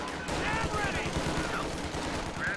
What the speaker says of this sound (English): Machine guns doing their job.